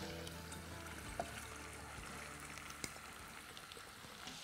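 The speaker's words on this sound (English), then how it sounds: "Now I'm just gonna fry that just a little bit, just so it starts taking on a little bit of color" Celery, onion and courgette fry in a pan for soup, giving a low steady sizzle with faint crackles and a couple of soft utensil taps, heard close and alone.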